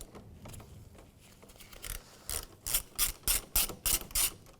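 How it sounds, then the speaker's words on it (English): A ratchet with a 10mm socket loosens the negative battery terminal on a 2011-2016 Hyundai: soft fiddling, then about seven crisp, evenly spaced ratcheting bursts, close and clear with no voices. "We're going to remove the negative battery terminal. I'm going to do that with a 10mm socket."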